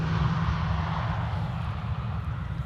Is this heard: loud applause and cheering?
no